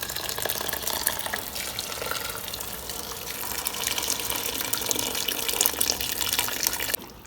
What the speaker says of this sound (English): Now add in double the quantity of boiling water.